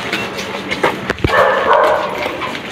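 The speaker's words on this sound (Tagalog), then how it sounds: "Mabait yung aso nila dito." A dog gives a single short bark amid outdoor background noise, with a brief rumbling passage following.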